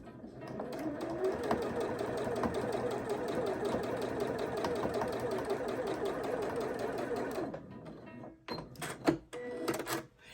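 A sewing machine stitches along a fabric edge with a fast, even mechanical chatter for about eight seconds, then stops and gives way to a few clicks and knocks as the fabric is handled.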